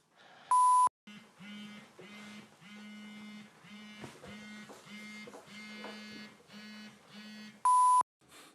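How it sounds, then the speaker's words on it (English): Desk alarm clock going off indoors, repeated short low beeps in a steady pulsing pattern for several seconds, framed by a louder high tone at the start and end. "That was my alarm. I accidentally set an alarm on my desk."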